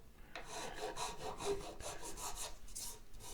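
Steady back-and-forth sanding strokes rasp against the nut of a Yamaha FG420-L acoustic guitar, a repeated scratchy rhythm of about eight close, moderately loud passes with no voices.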